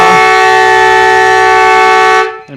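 A loud end-of-quarter siren blares at a 2015 BDAFL Australian rules football match between Newcastle City and Terrigal Avoca, one sustained steady blast of about two seconds that cuts off abruptly.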